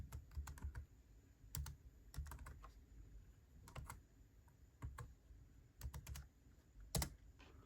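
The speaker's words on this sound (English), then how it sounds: "So type in diskpart." Keys clatter on a computer keyboard as a command is entered into a Windows prompt. Quick irregular clusters of soft, close clicks sound alone in a quiet room.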